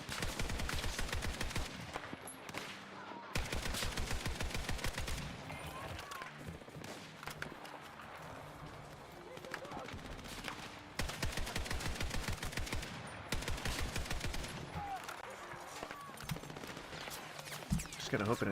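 Rapid video game gunfire in Battlefield, bursts of automatic shots repeating in long volleys with short pauses, loud and close, under a player's occasional talk.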